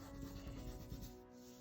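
A pencil drawing of Beethoven being rubbed and blended, a steady close dry scraping that fades slightly toward the end, quiet and alone.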